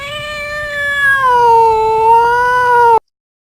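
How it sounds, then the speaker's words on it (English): Cat meowing, a single long, loud, drawn-out meow heard up close, ending abruptly into silence. "A cat."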